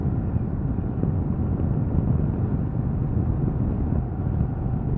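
A Ducati Multistrada DVT S motorcycle cruises in fourth gear around 40 mph at 3,000 revs, a steady broad engine and wind roar filling the whole stretch without pause or talk.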